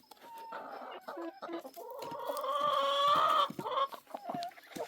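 Chickens and roosters cluck and squawk close by, a busy run of calls swelling louder in the middle before settling into scattered clucks.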